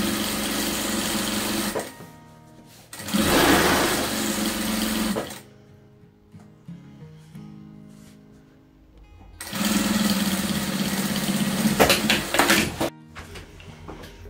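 A domestic sewing machine stitches a patchwork rug's finishing seam with backstitching, running in loud bursts separated by quieter pauses with faint handling noises.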